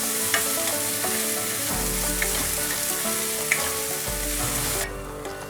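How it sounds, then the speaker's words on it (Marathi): Finely chopped onion sautés in a pan over a medium gas flame, with a steady close sizzle and occasional stirring scrapes, continuous and fairly loud, fading a little at the end, with no talk. "गॅस आपण मीडियम फ्लेमवर ठेवलेला आहे आणि हा कांदा जरा मऊसर होईपर्यंत परतून घ्यायचा आहे।"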